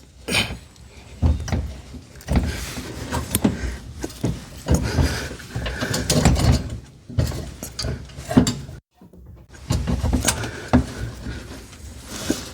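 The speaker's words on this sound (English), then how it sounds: "I'm going to hold the chain tight while I twist it up." A spare tire chain winch on a Lexus GX460 is twisted up by hand, giving irregular close metallic clanks, ratcheting and rattling clinks in uneven bursts with a brief pause.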